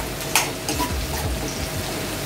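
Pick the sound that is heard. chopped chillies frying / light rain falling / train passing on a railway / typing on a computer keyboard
chopped chillies frying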